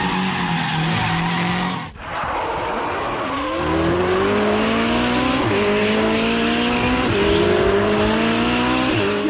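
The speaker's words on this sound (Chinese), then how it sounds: "一号车打滑" Anime race car skidding on a mountain circuit, tires squealing loudly as the car loses front grip and spins, a brief dip in the noise before long rising and falling squeal sweeps continue with engine roar underneath, no talk.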